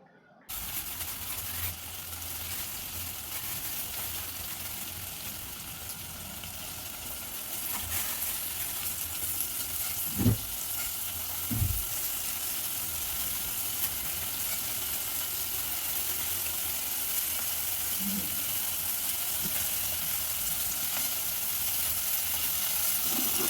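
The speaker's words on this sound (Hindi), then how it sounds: "टिके फ्राई करमा टमाटो के" Chopped tomatoes fry in a pan for paneer pulao, a continuous soft sizzle and hiss with a couple of brief low knocks from a utensil midway and no talking.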